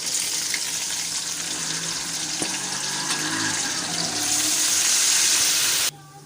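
Tomatoes and green chilies freshly added to browned onions and frying in a pot, with a loud, steady hiss of sizzling that swells slightly before cutting off abruptly near the end; no talking.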